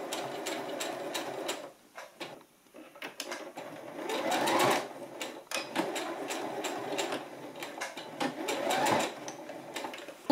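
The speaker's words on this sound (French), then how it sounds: "on va maintenir le tout à l'aide d'une petite piqûre au plus proche du bord de chaque passant" A sewing machine stitches close to the edge of fabric belt loops on trousers, running in short, uneven bursts of rapid clatter with brief stops between seams.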